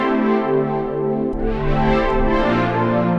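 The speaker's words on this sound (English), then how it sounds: "I'm going to start off this beat using this nice lush pad sound called Venus Rising inside Analog Lab 5" Venus Rising, a lush synth pad from Arturia Analog Lab 5, sustains a warm, thick chord, changing to a second chord midway, loud and alone with no talking.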